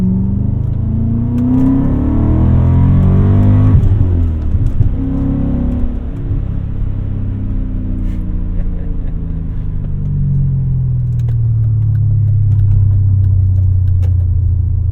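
A 2001 BMW E39 M5 engine revs and pulls while the car drives, rising to a loud rumble, then easing off and climbing again. The sound is steady and close from inside the car, with no talk.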